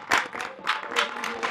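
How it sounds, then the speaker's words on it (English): An audience at a guest-introduction event gives a short round of applause, the clapping swelling and easing in several moderate waves over a brief stretch. "please give a big round of applause for him"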